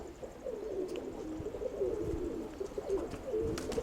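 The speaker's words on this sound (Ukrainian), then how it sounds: "смотри, голуби летають" Pigeons coo softly in a low, rolling murmur, faint and continuous against light background noise.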